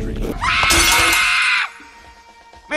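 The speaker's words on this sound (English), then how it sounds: "Where's the screaming woman?" A woman's shrill, sustained scream in a movie scene rings loud for about a second, then cuts off abruptly into quieter background sound.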